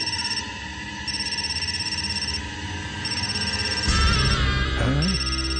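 A telephone rings in repeated electronic bursts, loud and steady, over a dense musical background; no one speaks.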